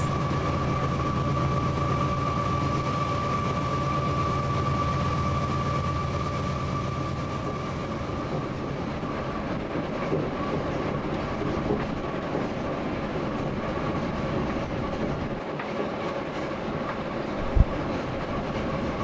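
Inside the cab of a moving freight train, a steady low engine drone and rumbling wheel noise hold constant with a faint tonal hum, occasional soft clicks of rail joints and one sharp knock near the end.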